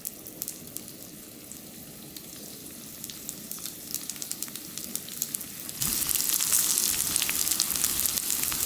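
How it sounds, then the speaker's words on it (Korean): Dumplings pan-fry in oil over high heat, with a steady close sizzle and scattered crackling pops that swell into louder, brighter frying for the last few seconds. "노릇노릇하게 구우면 돼요."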